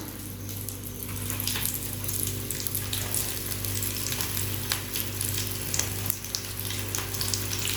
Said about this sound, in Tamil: கோலா உருண்டையை நம்ம வந்து எண்ணெயில் போட்டோன்னே சிம்மில் வச்சுக்கோங்க